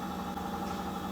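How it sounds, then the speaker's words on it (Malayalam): A washing machine running on a clothes wash, a steady mechanical hum with a faint vibrating drone, heard alone and close. "വാഷിംഗ് മെഷീനിൽ തുണി കഴുകാനായിട്ടിട്ടുണ്ട്"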